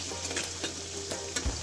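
Onion puree stirred as it fries in a pan for hotel-style paneer tikka masala, with a steady sizzle under repeated scraping strokes and a louder knock near the end, no talk.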